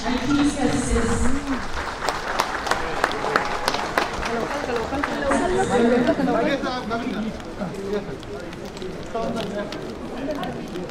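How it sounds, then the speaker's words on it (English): Audience clapping at the ribbon-cutting inauguration of a new High Court building, mixed with crowd chatter and voices talking over it, loud and continuous across the whole stretch. "Let us all clap as our Chief Justice"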